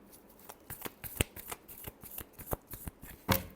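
Tarot cards being shuffled by hand in a quick series of soft, crisp riffles and slaps, close by and fairly quiet, with no talking.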